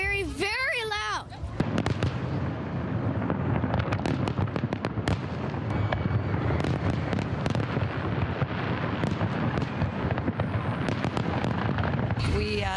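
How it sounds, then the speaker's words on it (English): Fireworks burst over the Detroit River in a loud, dense barrage of booms and crackles after a brief moment of talk. "Fireworks are pretty. The only thing I don't like is they're very, very, very, very, very loud."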